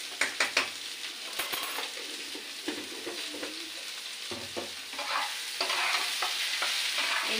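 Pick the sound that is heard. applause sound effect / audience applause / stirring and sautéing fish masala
stirring and sautéing fish masala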